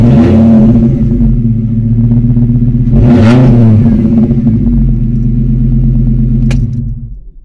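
Lancia Lybra five-cylinder engine revving loudly and close, a deep steady idle that climbs in a sharp rev around the middle, then settles and fades out, with no talk over it.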